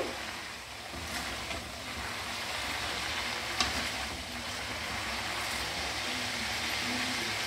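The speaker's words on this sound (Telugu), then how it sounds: "తర్వాత కరివేపాకు. బాగా కొంచెం ఫ్రై కావాలండి." Curry leaves fry in hot oil for a drumstick pickle, giving a steady, soft sizzle with faint crackles and one brief pop, close and alone with no talking.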